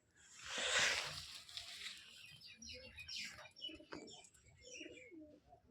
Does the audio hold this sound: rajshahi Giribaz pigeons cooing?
yes